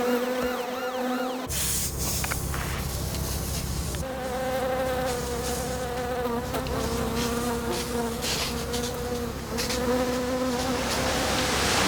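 A swarm of insects fills the air with a dense, loud, continuous buzz. Individual wingbeats whine close by and drift past throughout, with no voices.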